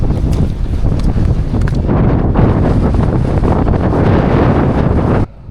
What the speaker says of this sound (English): That wind is proper blowing.